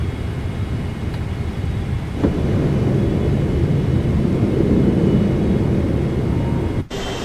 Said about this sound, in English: Till 160, and the gears comes down.